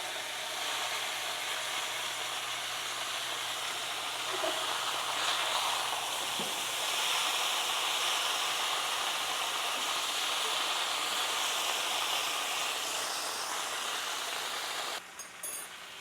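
Food sautés in a hot skillet for a Southern side dish, a broad steady hiss that runs without a break, ending in a brief clatter.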